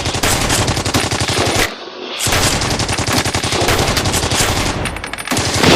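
Loud, close machine gun fire rattles in long rapid bursts, broken by one brief pause, in a stop-motion battle scene with toy army men set in the liberation of France.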